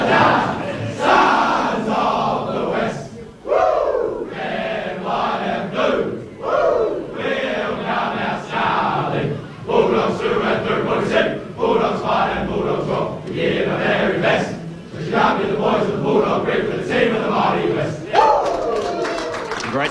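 Western Bulldogs AFL players gathered together after a win over GWS, loudly chanting and singing their team song as a rowdy group, the shouting voices continuous and close throughout.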